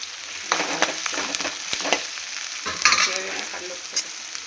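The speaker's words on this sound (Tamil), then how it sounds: "வெங்காயத்தை நல்லா பொண்ணாமல் வதக்கிக்கோங்க." Onions sautéing in a pan for chicken curry, a steady sizzle with repeated scraping strokes of a spoon stirring them, close and without talk.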